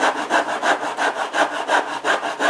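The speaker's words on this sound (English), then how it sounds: "so now I can finish the cut off the bench" Hand saw cutting through wood at a workbench, about eight even back-and-forth strokes in a steady rhythm, close and moderately quiet with no speech.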